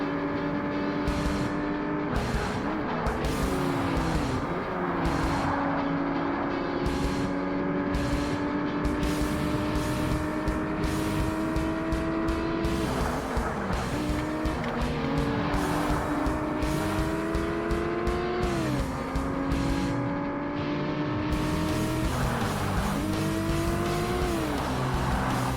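Race car engines roar and whine through gear changes in Forza Motorsport on the original Xbox, with repeated tire squeals and skids, loud and continuous throughout with no talk.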